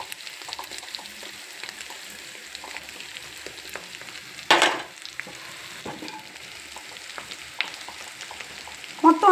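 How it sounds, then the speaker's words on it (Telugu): Bitter gourd pieces tossed with coconut chili powder are stirred in a pan, giving a soft, steady sizzle with scraping strokes and one louder clatter near the middle, without any speech. "మొత్తం అంతా కలిగి తిప్పాలండి"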